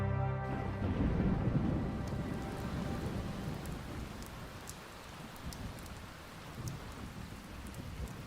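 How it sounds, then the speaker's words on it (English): Steady rain pours across open salt fields in April, a dense even hiss of drops on the ground with occasional sharper drips, fairly faint and continuous, with no voices. "In April, unexpected rainfall ravages the salt fields."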